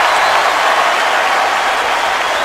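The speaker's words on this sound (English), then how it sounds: "And that'll bring the crowd back to life." Loud, dense roar of a football stadium crowd cheering after a quarterback sack in an NFL game, a sustained wash of noise without pause.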